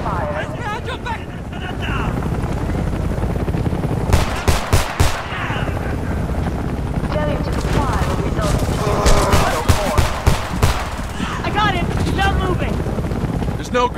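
Heavy gunfire in the video game Homefront, with bursts and shots clustered around the middle and later, under near-constant shouting voices and dense battle noise.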